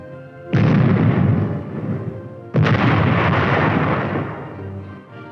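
An M47 medium tank fires its 90mm gun twice, each shot a loud heavy boom with a long rumbling decay, the two blasts about two seconds apart.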